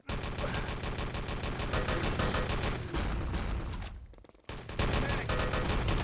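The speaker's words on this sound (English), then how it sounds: "It's quite easy rifle shots though" Rapid rifle gunfire from the Enemy Territory shooter during a 6-on-6 LAN tournament match: dense, loud bursts of shots repeating steadily, with a brief drop around the fourth second before the firing picks up again.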